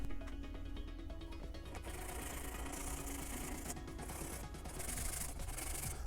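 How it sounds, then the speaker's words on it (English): Continuous rough sanding on a handmade Boba Fett jet pack, a steady close scratchy rubbing with rhythmic strokes that grow brighter partway through, with no talk. "Let me sand on this a little bit and then I'll show you the results."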